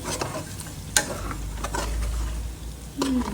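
Chicken fries in a pan with chili powder as it is stirred in, giving a steady sizzle broken by scraping strokes and a few sharp clicks of the spoon against the pan.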